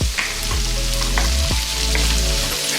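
A spiced tomato mixture with turmeric stirred in a pan, with a loud, steady frying sizzle and occasional spoon scrapes, heard up close with a low hum underneath.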